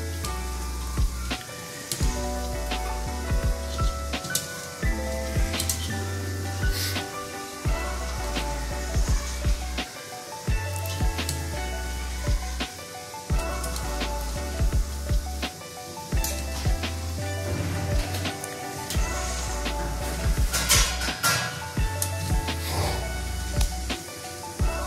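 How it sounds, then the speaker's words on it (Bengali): Crackling sizzle and spray as white oil is sprinkled over Maggi noodles frying in a pan, with intermittent hissing bursts over a steady background of music with a low beat. "এতটা সাদা তেল ছিটিয়ে দেব।"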